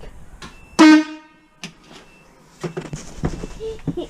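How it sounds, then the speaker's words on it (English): A single loud, brassy truck air horn blast, powered by the engine's air pressure, sounds for a moment, followed by quieter clatter and shuffling noises nearby. "We've got an engine that works and generates air pressure for your air horn"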